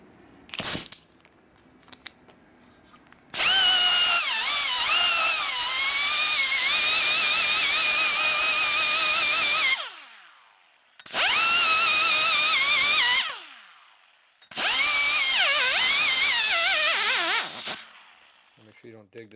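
Rotary cutter grinding the port of a 1950 Harley-Davidson panhead cylinder head: three long, loud, close high-pitched whining bursts with wavering pitch, separated by short quiet pauses.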